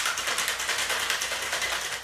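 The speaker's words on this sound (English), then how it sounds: "So I give it a really good shake for a long time." A cocktail shaker is shaken hard with a daiquiri of lime juice and syrup, giving a steady, loud run of rhythmic rattling splashes close by, with no talking.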